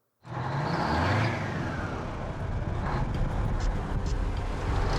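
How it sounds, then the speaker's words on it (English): Old tow truck engine rumbling under way, a loud continuous drone that rises in pitch then settles, with some rattling and clunks over the steady motor noise. "The General truly is an embarrassing truck to drive."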